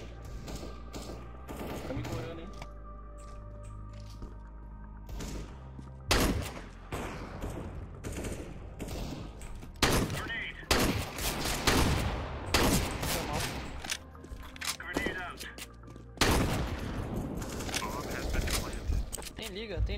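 Shotgun blasts in CS:GO, several loud sharp bursts scattered irregularly among other gunfire and mechanical clicks, with a player talking in between.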